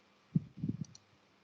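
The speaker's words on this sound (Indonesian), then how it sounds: "sudah saya klik stop nih" A computer mouse gives a few quick, soft clicks close by, then falls quiet.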